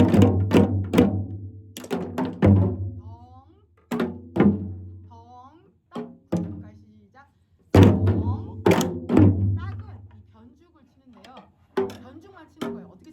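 A Korean janggu drum is struck in short groups of deep deong and sharp ttak-kung strokes in samchae rhythm, close and dry, with a teacher speaking between the groups.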